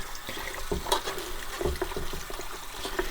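Tap water trickles and splashes over a sealed Eheim Classic 600 external canister filter being rinsed under a faucet, a close, steady pour with small spattering bursts and no talking.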